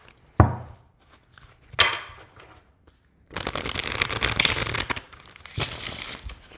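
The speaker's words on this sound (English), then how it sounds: "It's not too bad to shuffle at all with this shape." Bursts of tarot card shuffling, riffled several times with short pauses between, close by, with a longer, denser flurry of cards in the middle.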